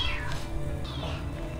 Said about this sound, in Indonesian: Kecil-kecil emang berisik, Peter udah gede jadi jarang ngeong